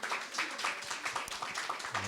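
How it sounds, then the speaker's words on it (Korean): Church audience clapping, a quick run of soft, fairly even claps heard from a distance. "다시 한번 박수 한번 쳐주세요."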